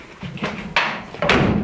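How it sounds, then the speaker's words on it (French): A van's sliding side door is pulled along its track and shut, giving a short sequence of scraping rolls followed by two sharp thumping impacts within under two seconds, close and fairly loud. "j'ai la porte latérale qui se ferme"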